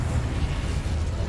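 Fiery Confringo spell blasts in the Hogwarts Legacy video game, a dense, continuous rumbling burst of explosive noise lasting throughout, loud and close with no talking.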